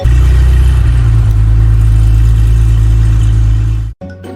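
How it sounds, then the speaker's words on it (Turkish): A school bus engine drones loudly and steadily at low pitch, close up, before suddenly cutting out into quiet. "Okul servisi işte böyle ses çıkartır."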